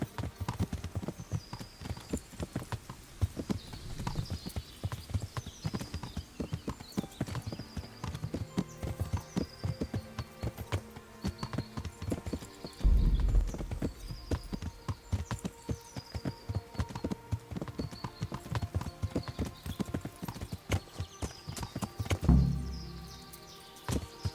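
Video game horse hooves from Kingdom Come: Deliverance clip-clop steadily in a quick rhythm, close and continuous, with a brief louder thud partway through and another near the end.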